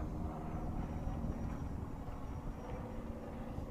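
An E-Flite Decathlon 1.2 m RC airplane flies just after takeoff at about half throttle, its electric motor a steady drone heard throughout from a moderate distance, with some outdoor wind noise.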